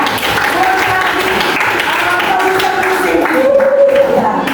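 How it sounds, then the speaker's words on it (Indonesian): Classroom applause for a student during an academic supervision session, a short burst of clapping from a small group that stays steady and fairly close, with voices and a tonal sound mixed in underneath. "Bagus, kasih tepuk tangan."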